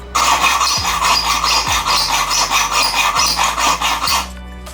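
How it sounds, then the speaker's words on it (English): A hacksaw blade cuts a slot into the head of a one-way screw in a run of about five rhythmic, rasping back-and-forth strokes, loud and close, with no talking. "use a hacksaw blade. What we'll be doing is simply making a slot straight into there"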